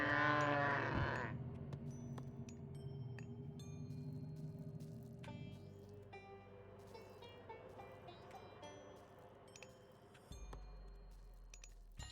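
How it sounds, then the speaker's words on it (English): Goats in the Age of Mythology strategy game give a short, harmonic bleat right at the start, then fade into a low, steady game ambience with scattered faint clicks. "What a nice formation of goats around the main TC of Nullus"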